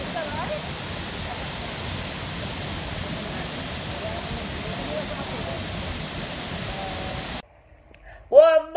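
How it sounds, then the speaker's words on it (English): Steady, broadband roar of a waterfall in Bali fills most of the clip, then cuts off abruptly near the end before a brief burst of other sound. "Second waterfall."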